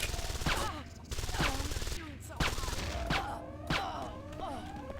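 Automated turret gunfire in the video game Deus Ex: Invisible War: sharp bursts recur about once a second over a dense mix of game sound, with a voice talking throughout.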